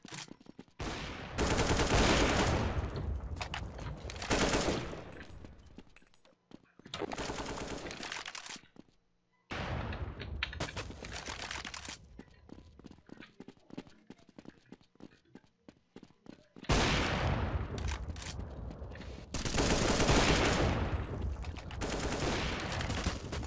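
Rapid automatic gunfire bursts in Counter-Strike 1.6 come in loud, dense volleys separated by short pauses, with quieter stretches of scattered single shots in between.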